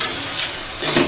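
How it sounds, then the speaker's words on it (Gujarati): A spoon stirs and presses red chili powder into tomatoes for moong dal over medium heat, a close, steady sizzling hiss with a brief louder surge of frying near the end. "આ રીતે ચમચાની મદદથી થોડું થોડું પ્રેસ કરી અને એને સારી રીતે મિક્સ કરી લઈશું।"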